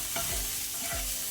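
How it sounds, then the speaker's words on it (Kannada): Crushed garlic and curry leaves fry in coconut oil on a low flame, giving a dense, loud, continuous sizzle close up. Two quick stirring scrapes cut through it in a very short moment. "ಸೊ ಇದನ್ನೆಲ್ಲ ಈಗ ನಾವು ಲೋ ಫ್ಲೇಮಲ್ಲಿ ಸ್ವಲ್ಪ ಫ್ರೈ ಮಾಡುವ."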